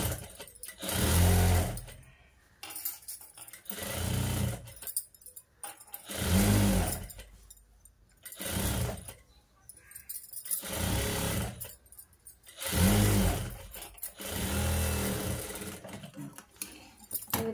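A sewing machine stitches a cut work blouse, running in several loud bursts of steady whirring that start and stop with short pauses between them, close up, with no talking.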